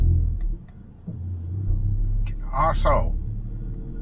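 A Ford Focus ST Mk4 engine idles with a low rumble while the clutch is ridden in traffic, a steady close drone that swells briefly, with someone speaking inside the car.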